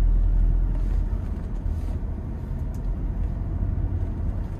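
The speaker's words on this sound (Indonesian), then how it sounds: "ini gigi tiga, angkat kopling setengah tambah gas" A Toyota Innova 2.4 G manual from 2022 accelerates in third gear, its engine giving a steady low rumble with road noise inside the cabin, loudest at first and then holding even, with no talk.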